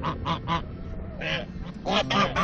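Domestic geese waiting for their morning feed honk nearby in short bursts, a few clipped calls, a pause, then a louder cluster of overlapping honks.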